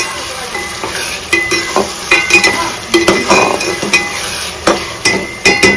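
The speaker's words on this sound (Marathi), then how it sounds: "आता मी टॅमॅटो सुद्धा टाकून घेणार आहे आणि टॅमॅटो व्यवस्थित मी परतून घेणार आहे" Onion and tomato are sautéed in a pan, with a spatula scraping and knocking against the metal in quick irregular strokes over a steady sizzle, loud and close.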